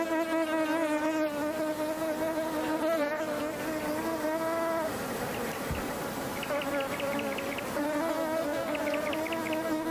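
Honeybees buzz around flowers, their dense droning hum continuous and close, with pitch wavering as individual bees move nearby.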